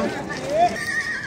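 A horse gives a short whinny at a busy horse and livestock market in Tokmok, the neigh rising and falling once amid a crowd murmur and voices.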